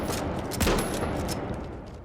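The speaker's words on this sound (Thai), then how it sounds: "อันนี้เป็นช็อตกันลูกสลัก" A slug-loaded shotgun fires in The Finals, a loud booming blast around the middle of the clip amid constant noisy game action.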